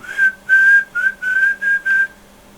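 A clear, loud whistled tune of six sustained notes with short gaps between them, heard on its own.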